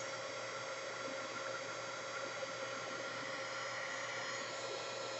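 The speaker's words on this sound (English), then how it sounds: "You can use a hair dryer." A hair dryer drying fresh paint on a doorstep runs as a continuous, steady broadband whoosh with a high motor whine, close and loud, unchanging throughout with no talking.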